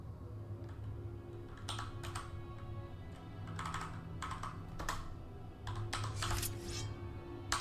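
Computer keyboard typing in short, irregular bursts of clicky keystrokes, played over a low, steady game backdrop.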